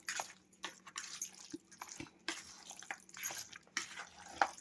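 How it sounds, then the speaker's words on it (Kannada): Chicken kebab marinade with garlic and mint is stirred with a small fork, giving repeated wet, squishy clicks and drips at close range with no talking. "ಈಗ ಚಿಕ್ಕ ಫೋರ್ಕಲ್ಲೇ ಮಿಕ್ಸ್ ಮಾಡ್ಕೊತಾ ಇದ್ದೀನಿ."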